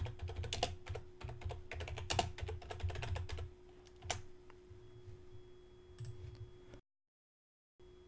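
Quick bursts of clicking on a computer keyboard, close and fairly quiet, tapping in an uneven rhythm for several seconds before slowing to a few scattered keystrokes and falling silent.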